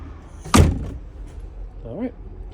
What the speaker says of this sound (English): press and hold on this button just here, and that allows you to open the door.